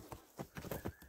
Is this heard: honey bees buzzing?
no